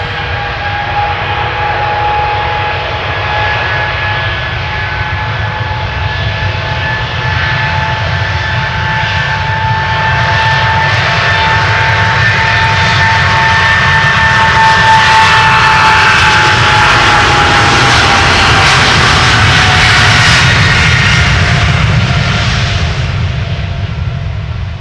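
Jet airliner taking off from Schiphol's Polderbaan runway, a loud close rumbling roar with whining engine tones that swells and sweeps past over about twenty-five seconds.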